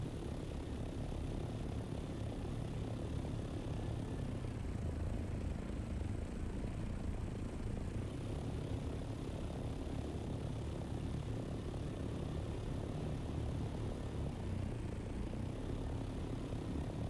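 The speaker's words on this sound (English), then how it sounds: "The boosters just make it sound like a jet." Jet-like drone of a booster-equipped aircraft engine in a roleplay video game, a steady loud roar holding unbroken for the whole stretch with no voices over it.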